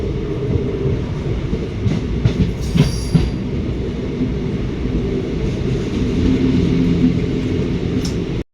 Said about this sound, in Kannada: ಟ್ರೈನ್ದು ನಾಯ್ಸ್ ಎಲ್ಲ ಇತ್ತು